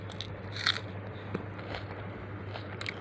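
Crisp bites into raw onion and green chili eaten with rice, a few sharp crunches close to the mouth amid soft chewing, with no talk.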